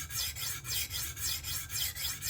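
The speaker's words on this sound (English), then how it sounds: "this thing it kind of makes me do kind of like the sweeping motion more so whenever you're sharpening" A knife being sharpened with a TSPROF Kadet Pro system on a 6-inch stone, drawn in sweeping strokes: a steady, close rasping scrape that repeats about four times a second, with no voices.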